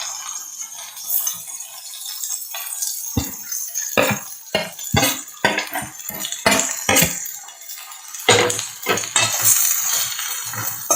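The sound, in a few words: sautéing cabbage and capsicum in a pan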